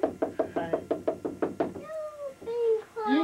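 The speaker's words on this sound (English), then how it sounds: "someone's knocking at your front door" A quick run of about ten sharp knocks raps on a home's front door in a steady rhythm, close and loud, followed by high voices.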